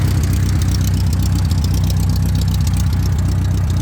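An International TD-9 crawler's engine idles as it warms up, a loud, close, steady rumbling throb with no break and no talk.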